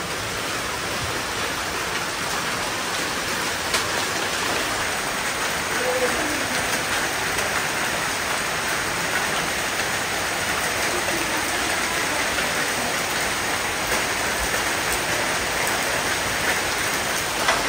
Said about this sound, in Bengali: আবার বৃষ্টি শুরু হলো